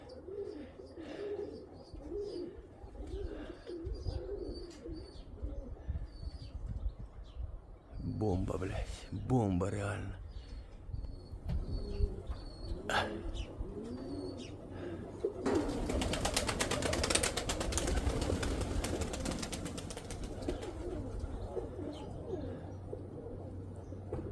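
Pigeons coo softly and repeatedly in the background while people talk nearby, with a burst of louder noise partway through.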